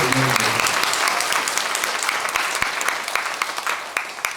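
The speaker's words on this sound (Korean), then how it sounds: "박수 한번 치세요." An audience claps steadily, a dense wash of applause that stays loud throughout and thins slightly toward the end.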